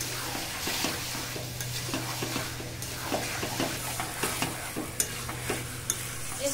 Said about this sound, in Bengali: এবার দিয়ে দেবো মাখিয়ে রাখা মাংস। খুব ভালো করে কষিয়ে নেব।